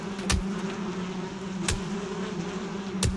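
Bees around a beehive in Valheim hum with a steady buzzing drone, and three sharp thuds land at intervals as the hive is struck.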